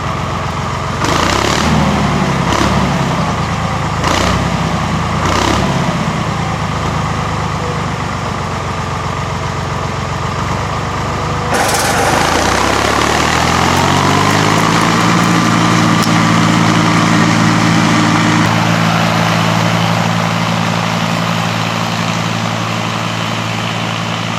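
A small engine drives a spreader for a fall food plot. It idles loudly at first, then revs up and settles into a strong, steady drone close by.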